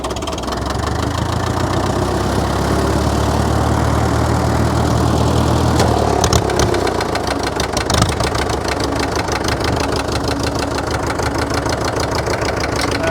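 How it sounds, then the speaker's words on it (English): An 80-year-old machine's engine runs steadily in gear, loud and close, with a continuous knocking, idling rumble and a slight shift in tone partway through; no one speaks. "I think if I start it up, put it in gear, throw the steering clutch on the left side, engage the regular clutch, it should drive this on."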